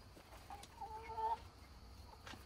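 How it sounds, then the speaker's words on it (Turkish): A Brahma rooster clucks a few short times in a backyard poultry run, faint and brief against a quiet outdoor background. "Şu horozumuz."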